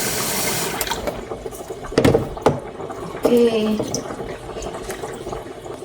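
Water runs and splashes while being fetched, a steady rushing flow with a few knocks and clunks of containers, and a voice speaks briefly.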